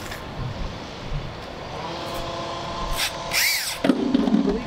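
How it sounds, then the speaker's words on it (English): A power drill bores an inlet hole in a plastic rain barrel during a workshop, with a loud whirring whine that rises near the end over steady outdoor background noise. "now we're going to drill the next size up for the inlet"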